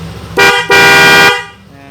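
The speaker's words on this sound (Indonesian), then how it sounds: "sekarang tinggal kita klakson nih teman-teman, gimana suaranya ya" A Denso waterproof horn fitted to a Yamaha NMAX scooter sounds two loud blasts, a short honk followed by a longer one, close up and alone over the idling engine.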